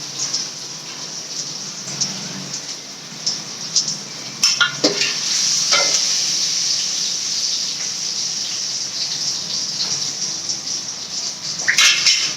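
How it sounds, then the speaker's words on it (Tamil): Paneer sizzles steadily as it fries in hot peanut oil for fried rice, with a constant bright hiss and occasional stirring scrapes and clinks from the pan, with no one speaking. "இப்போ இது பொறிச்சு எடுத்துக்கணும்பா"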